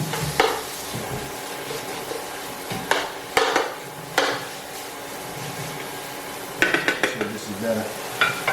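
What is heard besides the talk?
chopping up steak meat in a frying pan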